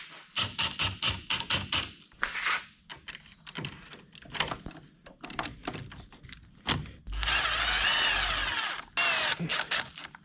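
Power drill driving screws through a custom metal door for a truck's living quarters, sandwiching two panels with sealing putty; several short bursts of whirring, then a long sustained run near the end, close and loud with clicks between.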